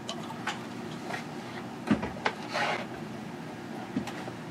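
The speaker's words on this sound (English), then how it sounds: "I'm going to open it up with the snowflake melter." A bottle of 1840 Brewing Co. double dry-hopped triple IPA is pried open with a snowflake-shaped opener. A few sharp metallic clicks are followed by a brief fizzing hiss, heard up close in a quiet room.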